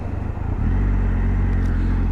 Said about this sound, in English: Gotta wait for all this traffic to go by.